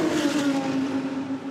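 BMW GT race cars roar past at around 280 km/h in a GT World Challenge Europe endurance race, a loud sustained engine drone holding a high steady pitch.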